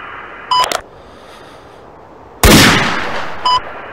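A single sharp sniper rifle shot cracks loudly in a video game, followed by a decaying rumble, framed by short electronic beeps before and after it.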